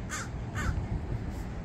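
A crow caws twice in quick succession and then gives a fainter third call, heard over a steady low rumble of background noise.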